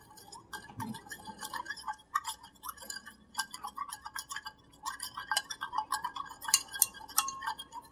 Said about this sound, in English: And again, let's just stir this a bit.